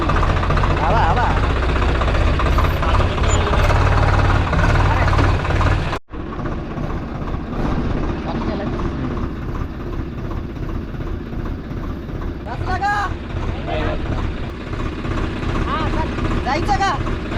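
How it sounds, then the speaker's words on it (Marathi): A tractor engine labouring through mud on a rain-soaked broccoli farm, a steady low rumble close by that drops briefly mid-way, with people talking over it. "चला आता चिखलातून ट्रॅक्टर घालायचा आपल्याला"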